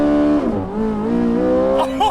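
A Porsche 918 Spyder rockets from 0 to 60 mph, its engine roaring loud and close, the pitch dipping at a quick shift and then rising again in under two seconds.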